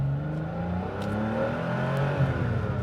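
A modified 1985 Porsche 930 Turbo with a 3.4-liter engine accelerating on throttle, its steady engine note climbing in pitch as revs rise, heard alone without speech.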